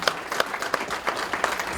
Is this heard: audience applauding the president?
yes